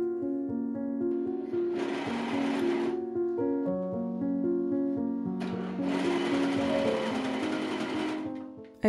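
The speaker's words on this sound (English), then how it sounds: "I repinned the lining to the main hood and serged along the edge of both." An overlock serger runs two steady stitching bursts, about a second and then about three seconds long, seaming a hood lining to the main hood edge, with a quieter mechanical hum and clicking between them.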